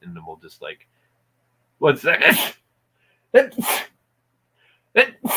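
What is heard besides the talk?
sneeze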